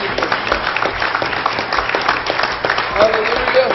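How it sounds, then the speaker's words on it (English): A church congregation at a Pentecostal evening service claps and applauds steadily, a dense, loud patter of many hands with voices calling out over it. "Give Him another hand clap of praise."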